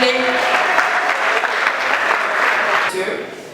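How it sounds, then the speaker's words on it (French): An audience at an embassy New Year's reception applauds as the ambassador walks up: sustained, dense, loud clapping from a crowd indoors, with voices mixed in, tapering slightly at the end. "Sous vos applaudissements pendant qu'elle avance"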